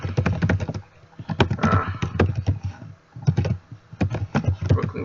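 Rapid typing on a computer keyboard, bursts of crisp close-up key clicks broken by brief pauses, alone without speech.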